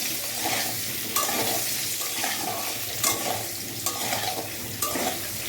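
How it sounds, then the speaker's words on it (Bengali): Potatoes fry in a pan with turmeric and salt, a steady bright sizzle of hot oil with periodic stirring scrapes recurring about every second, close and alone. "এবার দিলাম একটু হলুদ গুঁড়ো, একটু নুন দিয়ে দেখুন আলুটা ভাজা ভাজা হয়ে গেছে।"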